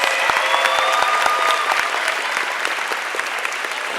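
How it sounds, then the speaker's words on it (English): A crowd at a high school senior awards ceremony claps steadily. The applause is dense and sustained, with sharp individual claps standing out near the front. "Give them a round of applause."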